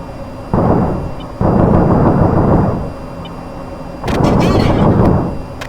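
Missile launches and explosions in an air combat video game, heard as three heavy, loud, roaring bursts, each lasting a second or more, separated by brief lulls, with no talk over them.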